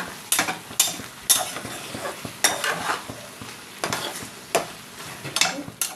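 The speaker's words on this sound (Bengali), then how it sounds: "এই গরম মশলাটা এই সবজিটার মধ্যে যেন মিশে যায়, সেভাবে ভালো করে নিয়ে নিতে হবে" A spoon scrapes and stirs through a shrimp and vegetable curry with garam masala in a pan, in quick rhythmic strokes over a soft steady sizzle.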